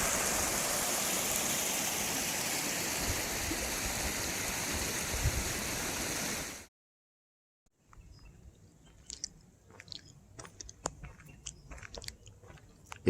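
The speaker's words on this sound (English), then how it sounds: "If you need water, there's a freshwater creek that flows out right here." Freshwater creek flowing out at Mill Creek in the Big Sur wilderness on the Santa Lucia coast, a steady broadband rush filling the first half, then cutting to a quieter stretch with scattered ticks and knocks.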